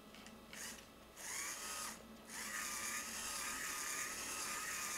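A small DIY electric motor turning at 100 rpm and fed 5 volts runs with a continuous whirring, geared whine that rises in level after a couple of brief dips.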